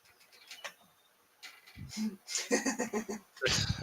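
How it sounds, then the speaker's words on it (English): Birds cooing in short, soft phrases, near and moderately quiet, mixed with a few faint ticks and brief pauses between bursts. "I think these birds have an issue with schedules in general."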